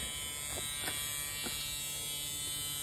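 A steady electric buzz from a 1973 Mercury Comet drones throughout at an even level, with a few faint knocks over it.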